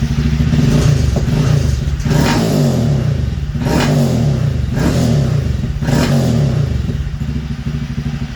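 A Honda Grom motorcycle engine revs repeatedly nearby with an AOdonly Racing low side mount loop exhaust and baffle fitted, four or five throttle bursts rising and falling over a steady idle, with a somewhat muffled exhaust note.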